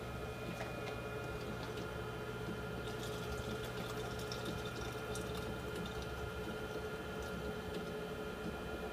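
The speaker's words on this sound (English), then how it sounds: "Fill up background solution," A container in a total phosphorus lab analyser is being filled with background solution, making a faint, steady flow of liquid over a constant pump-like hum with occasional light ticks.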